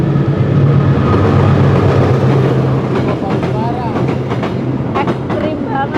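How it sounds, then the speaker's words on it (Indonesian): A freight train rolls past right beside a roadside eatery next to the rails, a loud, close rumble with rhythmic clickety-clack of wheels and squealing metal. Voices murmur underneath. "Ini kereta barang."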